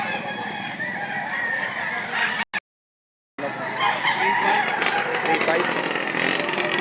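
A gamecock rooster crows at a fighting-cock market in Lipa, Batangas, loud and close amid steady crowd chatter and passing motorcycle noise, with a brief dropout midway.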